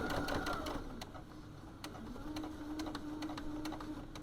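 A sewing machine runs slowly while stitching a small round drawstring pouch, giving a steady motor hum with rapid needle ticking and a brief reverse stitch, close and continuous with no talking.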